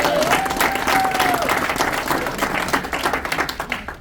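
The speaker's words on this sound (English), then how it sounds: "Give me another round of applause" Audience applause fills a graduation ceremony hall, a dense, steady wash of many hands clapping that starts loud and slowly thins toward the end.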